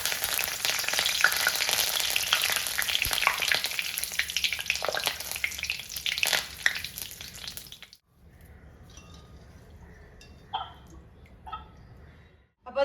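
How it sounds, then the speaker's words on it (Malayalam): Loud, dense sizzling and crackling of curry leaves added to hot oil with frying okra, which suddenly drops to quieter sizzling with a few sharp pops near the end. "അതിലേക്ക് ഈ എണ്ണയിലേക്ക് ശകലം കരിവേപ്പില ഇവിടെ വറുത്ത് പോരാം"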